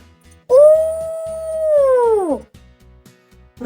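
A single long howl-like voice rises and holds steady, then slides down and fades, sung by human voices imitating a wolf, with soft rhythmic background music.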